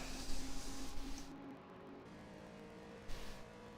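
A 1960s race car circuits the track in an endurance race, a faint engine drone that swells and fades as the car passes at a distance.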